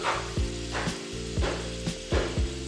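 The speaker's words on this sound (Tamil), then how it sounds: "கொஞ்சம் நல்லா டீப் ஃப்ரை பண்ணிக்கணும்" Potatoes deep frying in hot oil, a steady bubbling sizzle heard close, with rhythmic swells roughly every half second as the pieces are moved, over a low steady hum.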